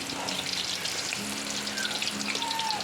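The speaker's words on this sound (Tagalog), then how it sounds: "luto tayong calamares sa usawan" Calamares, battered squid rings, frying in hot oil: a steady, dense sizzle with scattered pops and crackles, close and continuous throughout with no talk.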